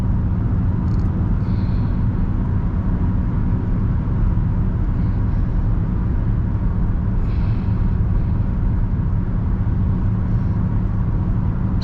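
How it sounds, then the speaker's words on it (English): Steady interior road noise from inside a moving car, a continuous low rumble of engine and tires holding constant for the whole stretch, with faint occasional higher ticks and no talk. "Sometimes it's nice to listen to the sound of the car."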